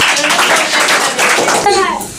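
Students in a spoken English class clap for classmates, a short burst of close, fairly loud hand claps with voices mixed in near the end.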